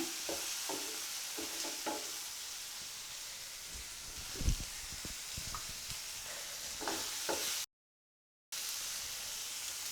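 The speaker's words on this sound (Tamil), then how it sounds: "இப்போ தக்காளி வெங்காயம் ரெண்டுமே வதங்கிடுச்சு" Tomato and onion being sautéed in a pan for an egg sandwich, a steady soft sizzle with intermittent scraping stir strokes, close and moderately quiet, briefly cutting out to silence near the end.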